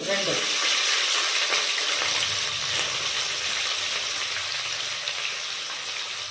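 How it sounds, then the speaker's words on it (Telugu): Thinly sliced onions frying in oil in a pan until browned, a loud, dense, continuous sizzle up close that eases off only slightly over the few seconds, with no talking. "ఈ ఆనియన్స్ బాగా బ్రౌన్ కలర్ వచ్చేదాకా వేయించుకుందాం."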